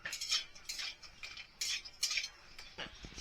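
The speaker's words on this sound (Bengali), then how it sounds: "এবার বড়িগুলোকে তুলে নিচ্ছি।" A metal spatula scrapes and clinks against a pan while lifting fried lentil dumplings out of mustard oil, a series of close, light metallic taps and scrapes in an irregular rhythm.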